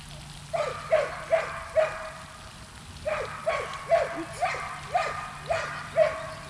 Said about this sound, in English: if you guys hear my dog barking in the background